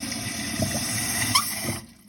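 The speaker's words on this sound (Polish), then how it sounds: "I trzyma, nic nie cieknie, szybko się napełnia." A Cersanit toilet cistern refills with water after a fill valve repair, giving a steady rushing, hissing flow heard up close that cuts off abruptly near the end as the tank fills.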